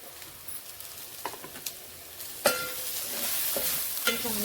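Tomato sautéing in ginger-garlic masala for prawn curry, a quiet sizzle with scattered scrapes and taps of a spoon in the pan, close and fairly soft.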